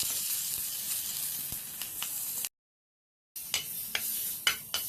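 Green chilies and nigella seeds crackle and sizzle in hot mustard oil in a pan, a bright steady hiss with scattered pops. A short gap of silence falls midway before the sizzling resumes.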